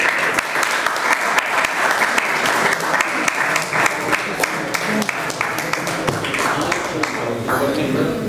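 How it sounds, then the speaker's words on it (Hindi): Loud, sustained applause from the audience at a Hindi poetry show, dense clapping with sharp individual claps standing out, continuing steadily throughout. "जोरदार ताली"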